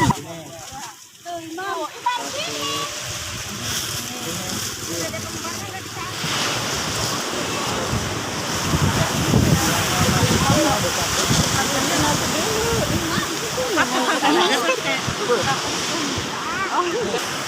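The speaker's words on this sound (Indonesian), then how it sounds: "saat ini kami berada di pantai mana nih" Surf at Sidamukti beach on the coast rolls in as a continuous broad wash, building louder midway, with wind buffeting the microphone and voices talking over it.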